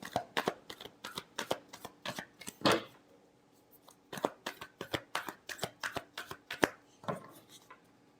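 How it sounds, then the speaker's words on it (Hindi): A tarot deck being shuffled by hand, a quick run of crisp, papery riffles and taps repeated in short bursts with brief pauses, close and fairly quiet, with no talking over it. "Last shuffle."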